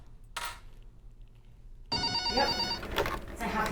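Telephone ringing in a school front office, one soft burst of ringing followed by a louder, sustained ring, with a voice speaking under the second ring.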